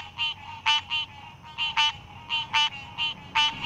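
Green tree frog (Hyla cinerea) calling at a pond, a series of loud, nasal, quacking honks repeated in a regular rhythm, close and clear, with no voices.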